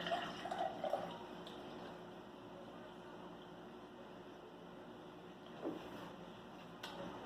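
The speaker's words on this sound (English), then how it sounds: "fill your container 2/3 of the way with water" Water pours into a container for a craft project, giving a faint, steady trickle and splash that runs on without a break. Small clinks come near the start and again later.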